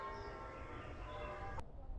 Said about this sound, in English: the church bells are just starting to go